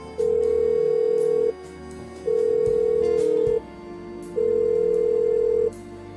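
Three long, loud ringback tones from a telephone call in the Blackwell Unbound video game, each lasting over a second with even gaps between them, sounding alone after brief dialing clicks.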